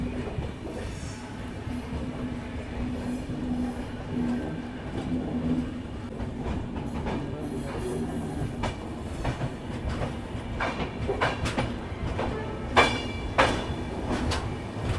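The New Jalpaiguri–Udaipur City Weekly Express crawls slowly along a single line after Barsoi in Bihar, giving a steady close rumble of carriages with rattles and sharper clacks of the wheels, loudest near the end. No one speaks.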